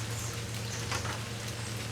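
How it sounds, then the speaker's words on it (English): Rain falls outdoors in the woods as a steady, even hiss of drops with a low, constant hum underneath throughout. "And now it's raining again."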